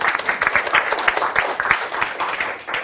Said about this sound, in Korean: 자, 일단 박수 한번 쳐주시고.